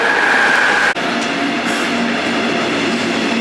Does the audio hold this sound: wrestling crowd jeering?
no